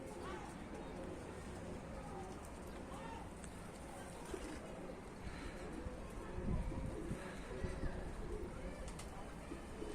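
Soft, low cooing from domestic pigeons, fancy breeds such as Karakafa and dönek tumblers, landing on a stone in the open, a voice talking nearby and faint steady background noise throughout.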